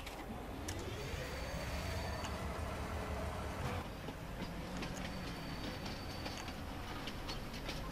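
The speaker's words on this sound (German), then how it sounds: "So, jetzt kommen wir eine Runde mit dem Zug" A train runs in the farming video game Landwirtschafts-Simulator 19, a steady rumbling rail roll with a rising engine tone and faint clicks, continuous and fairly close, with no talking.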